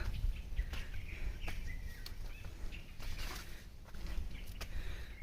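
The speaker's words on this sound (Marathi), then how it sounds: "पक्ष्यांचा आवाज तुम्ही ऐकू शकता" Wild birds chirp and call in short bursts across a monsoon-green rocky hillside, with a steady low rumble of wind or movement underneath and occasional brief sharp sounds.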